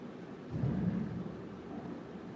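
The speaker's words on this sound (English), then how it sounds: "we have a feature of the thunder in the back" Low thunder rumbles softly in the background, swelling briefly and then fading into a faint steady roll.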